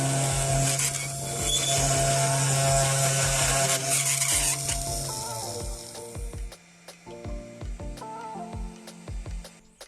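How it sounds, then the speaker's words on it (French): A CNC 3018 desktop router drills many 2 mm holes, 15 mm deep, for speaker grilles. A strained, whining spindle drone gives way to a rapid run of clicking and knocking as the bit plunges repeatedly, all close by. "Ces grilles de haut-parleurs ont été designées avec FreeCAD pour être percées à la CNC."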